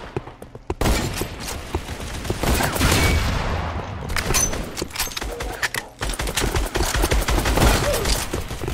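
Rapid bursts of BFG-50 fire in a shooter game, loud, sharp reports coming in quick irregular volleys with brief gaps, heavy and close throughout.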